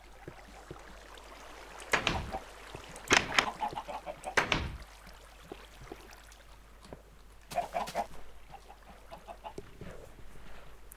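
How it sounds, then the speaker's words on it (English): Chickens clucking and squawking in short loud bursts separated by quieter stretches, with some scuffling among the birds and light background noise. "You have chicken and feathers."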